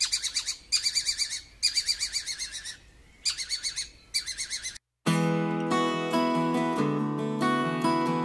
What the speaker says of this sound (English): The little owl has a very distinctive alarm call.